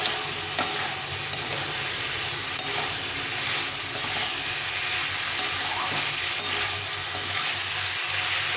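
Vegetables sizzle in hot oil and spices in a pan while being stirred, a steady hiss with occasional scraping clicks from the utensil, close up and unbroken, with no voices.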